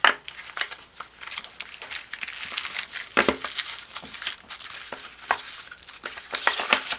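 Packaging for a MelGeek MojoPad plastic mechanical numpad being opened, with close crinkling and rustling of wrappers and box parts in irregular bursts and no talk.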